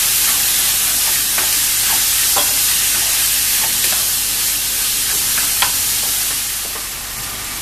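Onions and capsicum (bell pepper) sizzle loudly in a hot pan for egg masala, with a steady hiss throughout. Clear scraping taps mark the stirring at intervals, and the sizzle eases slightly near the end.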